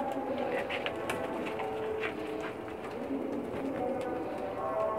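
Pakistani breeder pigeons cooing steadily up close, soft repeated throaty coos layered over a continuous low murmur of birds and faint background noise.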